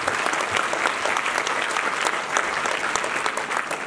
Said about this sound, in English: A big round of applause for you.